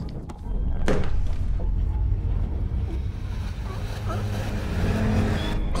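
Quad bikes in the Venom film drive past with a loud, rough engine roar and rushing wind noise, heard up close in a steady wash of sound.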